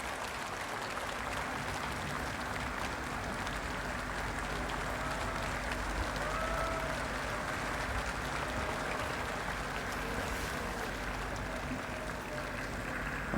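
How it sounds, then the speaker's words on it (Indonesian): Parliament guests at a presidential inauguration applaud the Gus Dur family, a distant, steady wash of clapping heard faintly under a broadcast-like hum. "keluarga Gus Dur mendapat tepuk tangan ya."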